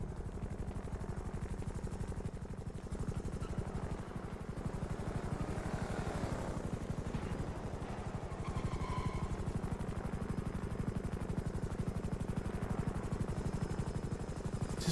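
Steady, rapid thudding of helicopter rotor blades in a video game, loud and continuous throughout with a droning engine hum, no voices.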